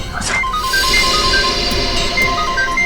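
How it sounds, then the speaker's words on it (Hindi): A phone ringtone plays repeatedly, short electronic tones in a looping pattern, heard over a noisy room with background chatter. "फोन अभी भी बज रहा है।"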